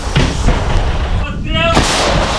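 A loud, broadband artillery shot from a National Guard of Ukraine 15th Brigade gun crew in combat dominates, with heavy rumble and a brief voice calling the shot cutting through mid-way.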